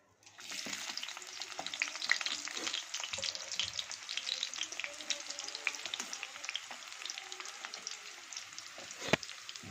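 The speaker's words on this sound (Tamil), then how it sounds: "அதுக்கப்புறம் நறுக்கி வச்ச 3 வெங்காயத்தை போட்டுக்கலாம்." Steady, dense sizzling of chopped onions frying in hot oil, close up, with occasional stirring clinks and scrapes, no voices.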